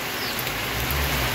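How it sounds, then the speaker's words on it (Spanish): Heavy rain falling in the morning after a night of downpours, a dense steady hiss of rainfall, close and constant across the short stretch, with no voices. "Hoy amanecimos con lluvia"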